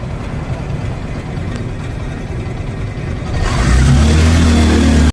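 Motor tricycle engine on a ride home, a steady loud drone that swells and deepens toward the end as the engine revs harder, heard from aboard with no talking.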